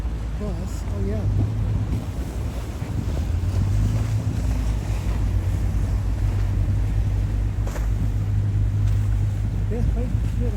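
A water bus's engine rumble and water churning with steady wind buffeting the microphone, a low continuous drone throughout.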